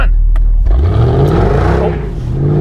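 Mercedes-Benz CLS 55 AMG accelerating hard in sport mode with ESP off: a loud, close engine roar whose pitch climbs steadily through the revs, dips briefly at a gear change, then rises again.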